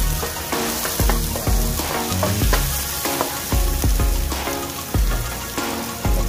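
Pork adobo ingredients sautéing in a pan: continuous loud sizzling with rhythmic scraping and stirring strokes of a utensil, repeating about every half second, with no voices.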